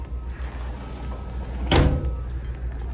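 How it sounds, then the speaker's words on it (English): A heavy sliding glass balcony door in a hotel studio room slides and thuds once, a single brief burst near the middle over a steady low room rumble. "The door is pretty heavy."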